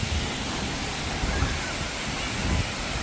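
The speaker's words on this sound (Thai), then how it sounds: "น้ำตกห้วยหลวงค่ะ" Huai Luang waterfall pours in a constant, loud rush of falling water, a dense roar that fills the scene without pause.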